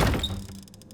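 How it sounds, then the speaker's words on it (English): A door swinging open in the horror game Scarlet Hollow: a single close, solid thunk at the start with a short creak, decaying quickly into quiet. "As you reach for the knob, the door swings open."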